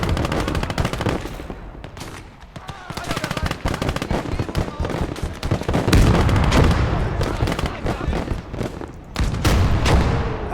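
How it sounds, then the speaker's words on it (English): Sustained machine gun fire in the Kampfgruppe war game, loud dense bursts of rapid shots filling the whole stretch, growing heavier toward the end with booming impacts mixed in. "Get your machine gun in action."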